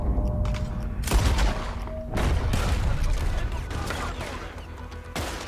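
Gunfire in the Western video game Red Dead Redemption 2, a dense run of loud gunshots and booming impacts over about five seconds, with voices talking underneath the shooting.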